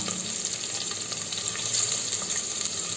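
Onion, green chillies and mint sizzle steadily in hot oil, a close, continuous crackling fry with no voices.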